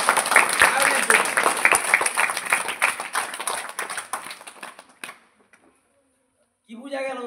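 Pupils in a classroom give a round of applause for a classmate, a brisk burst of many hands clapping that fades out after about five seconds, followed by silence and then a voice speaking.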